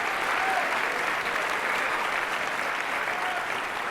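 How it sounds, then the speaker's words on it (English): An audience at the PlayStation Experience 2015 keynote claps in a continuous, dense round of applause, steady and fairly loud from start to finish. "I'd love to give yourself a round of applause, guys."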